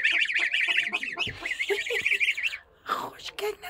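Goslings raised with a Brahma hen honk and peep in a dense, high chattering stream up close, briefly pausing before more calls, with a voice speaking nearby.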